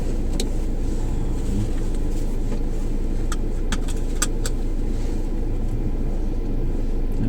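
A Mercedes-Benz W205 C200 EQ Boost sedan with a 1500cc engine is driven, giving a steady low hum of engine and road noise inside the cabin, broken by a few sharp clicks and light rattles.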